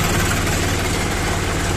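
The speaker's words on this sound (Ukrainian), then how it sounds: "Чуєте, як працює? Так само буде працювати цей двигун на диверсії." A 1620 cc YDM engine in a Kentavr 244SDX minitractor runs at a steady idle, close and loud, with an even low-pitched chugging pulse and no voices over it.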